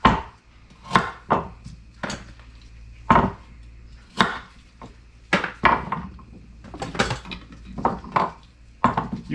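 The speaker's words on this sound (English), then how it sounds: "Gonna chop them all up and then add them into the broth." Knife chopping peeled carrots on a wooden cutting board for albondigas soup, a series of sharp, close knocks in irregular bursts, some quick doubles, over about nine seconds with no talking.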